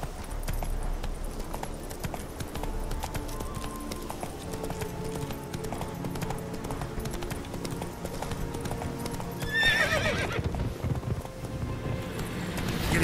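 A horse in The Witcher 3 gallops with a rapid, steady clip-clop of hooves, close and continuous, and a short louder rustle toward the end.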